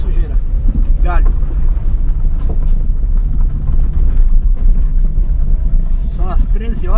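Strong wind roars and buffets the microphone continuously on a debris-strewn coastal road in Cubatão, São Paulo, loud and rumbling, with faint voices beneath.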